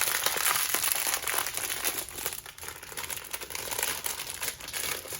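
Tokidoki Unicorno blind box packaging is torn open, with continuous close, loud crinkling and rustling of plastic and foil that rises and falls, and no voice.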